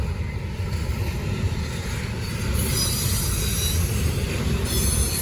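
A Norfolk Southern freight train led by Union Pacific locomotives rolls past at close range, a loud steady rumble of cars with high wheel squeal building and holding through the passage.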